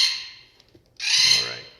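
Pet parrots kept indoors give two harsh, squawking calls separated by a short gap, fairly close and loud, with no talk over them.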